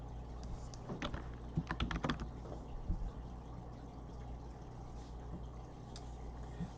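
Light typing on a computer keyboard: scattered clusters of soft key clicks over a steady low background hum, fairly faint and with no talking.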